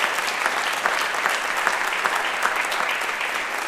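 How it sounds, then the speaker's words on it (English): Audience applause at a school district State of the District event, a dense, steady wash of many hands clapping at an even level throughout with no talk. "That deserves a round of applause."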